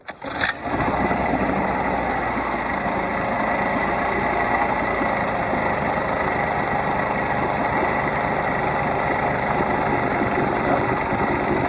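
An old Mercury 110 9.8 HP outboard engine starts with a sharp catch, then runs loud and steady with a rough, buzzing idle that fills the whole stretch at close range.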